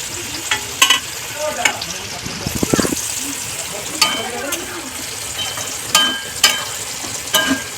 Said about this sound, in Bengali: সব সবজিগুলো নিচ্ছি, মশলা টশলা মাখিয়ে একেবারে কড়াই দিয়ে দিচ্ছি